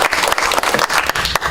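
A county council meeting audience breaks into applause, a loud, close burst of many hands clapping continuously through a short moment, with no talking over it.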